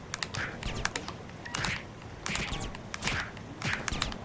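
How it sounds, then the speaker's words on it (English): Rapid keyboard typing comes in quick bursts of clicky keystrokes with short pauses between, close by, with no speech. "Stop typing."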